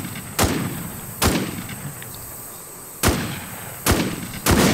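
Sniper rifle shots crack out in the survival shooter The War Z, five sharp, loud reports spaced about a second apart, each with a short echoing tail over quiet outdoor ambience.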